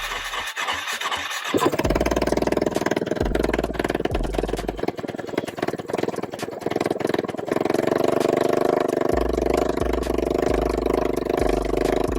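A Suzuki LTR 450 ATV engine on a weak battery cranks in short bursts, catches and runs with a loud, steady mid-pitched rumble, then returns to intermittent cranking toward the end.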